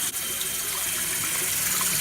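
Steady rush of tap water running into a sink while a makeup brush is washed, loud and close with a constant splashing hiss.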